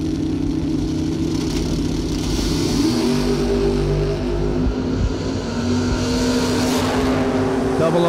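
A '67 Chevelle and a Camaro at a drag racing bracket event, engines idling and revving loud and close in a steady rumbling drone with rising surges, no talk.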